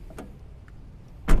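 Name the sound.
door of a 1997 Daihatsu Taft Rocky being opened and closed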